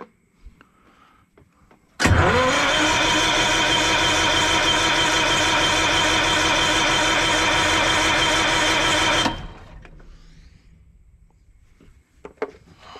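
A Detroit 271 diesel generator engine with no fuel cranks hard and steadily for about seven seconds without catching, then stops, leaving faint rustling and clicks.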